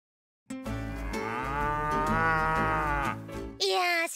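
A Holstein dairy cow on a farm in an anime lets out one long, loud, close moo lasting about three seconds, followed by the start of a second higher call.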